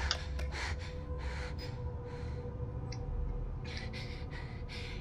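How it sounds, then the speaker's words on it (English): A character's heavy breathing in Resident Evil 7: repeated gasping, snorting breaths in a steady rhythm, close and fairly loud over a low droning background. "the fuck is up with his breathing?"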